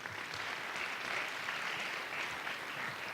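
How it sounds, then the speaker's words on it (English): Audience applause at a science communication competition national final in Malaysia, a steady dense patter of many hands, fairly faint and even throughout. "Let's give a round of applause to Dr."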